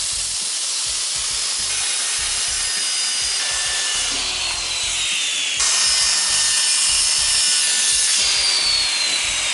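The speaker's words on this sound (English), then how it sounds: "So now it's time to start cutting some of this plywood up." Saw cutting plywood sheets for an HVAC baffle box in a recording studio build, a steady loud rasping cut running continuously with brief shifts in pitch, no voices.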